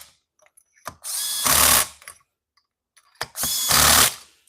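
An impact driver threads screws into a Stihl 026 Pro chainsaw in two separate close, loud bursts of rapid hammering and whirring, each about a second long, separated by quiet pauses and small clicks.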